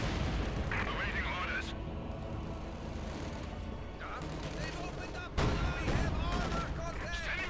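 Gunfire in a Company of Heroes 2 match, a 2v2 battle with an MG crew under fire, crackles as repeated shots and bursts throughout, with a louder burst near the end, under steady commentary talk.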